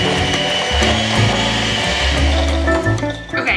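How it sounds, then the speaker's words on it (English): An electric hand mixer creams butter with white and brown sugar for edible cookie dough, a steady loud motor whir with the beaters churning and knocking against the bowl, close and continuous without speech. "For this, I'm gonna use a hand mixer"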